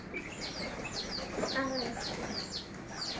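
A flock of pigeons that have just bathed gives faint coos and chirps, with soft repeated calls over a quiet outdoor background.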